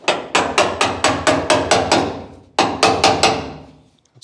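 A screwdriver is hammered between door latch reinforcement plates on a 1951 Ford hot rod fitted with modern latches. About eleven sharp, evenly spaced strikes ring out, followed by a pause and then four more, each fading quickly.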